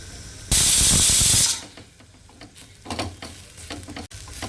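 Grated coconut with cumin, fennel seeds and black peppercorns being stir-fried in a pan for Kerala kadala curry: a loud burst of sizzling hiss, then quieter scraping and clatters of the pan, with no speech.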